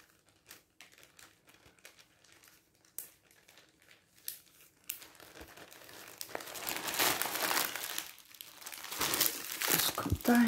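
Plastic packaging crinkles and rustles as items are packed back in, starting as sparse soft crackles and building into loud, continuous crumpling close by.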